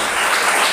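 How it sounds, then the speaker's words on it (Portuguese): Church congregation clapping together, a dense burst of applause that fills the brief moment with no voices over it. "Pode bater palmas e louvar o Senhor, hein?"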